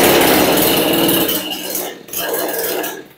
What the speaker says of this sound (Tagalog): Ito po yun yung Powerhouse na Petrol Chainsaw